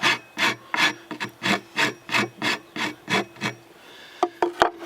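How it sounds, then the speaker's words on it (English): A rasp files a wooden axe handle in about eleven rhythmic, scratchy strokes, close and even, followed by a few sharp knocks at the end. "We'll use a rasp on it to kind of clean it up a little bit."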